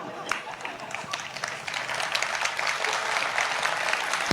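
Audience at a comedic Hindi poetry gathering (kavi sammelan) applauding, a dense steady wash of many hands clapping that swells and holds, heard fairly close.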